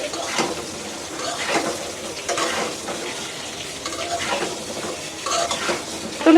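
Pointed gourd is stirred and fried in a pan at home, giving steady scraping strokes against the metal and a light sizzle underneath, with brief louder clinks near the end.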